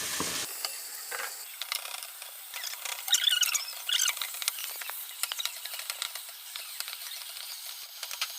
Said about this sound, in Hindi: इसको आप हल्का फ्राई करें।